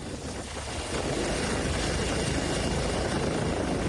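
Dense, continuous rotor roar of a rescue helicopter evacuating residents during flooding, steady and loud, swelling slightly after the first second.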